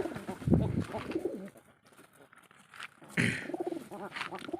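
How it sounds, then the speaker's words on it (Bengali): Domestic pigeons coo in low, throaty bursts while feeding, close by, with a quieter gap in the middle and faint wing or foot patter between calls. "কবুতর অত্যন্ত সুন্দর এবং অত্যন্ত মায়াবী একটি পাখি"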